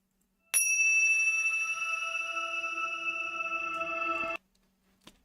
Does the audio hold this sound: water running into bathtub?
no